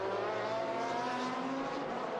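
Maserati GT race cars at speed during an FIA GT Championship round in Bahrain, a steady sustained engine roar with harmonic whine, continuous and fairly distant, no talk.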